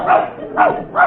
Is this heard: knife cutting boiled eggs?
no